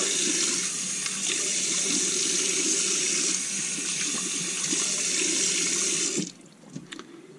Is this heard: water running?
yes